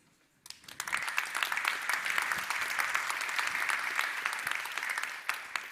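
A conference hall audience at the Masters of Digital 2023 opening bursts into steady, even applause after a brief silence, sustained at moderate volume for several seconds before easing slightly.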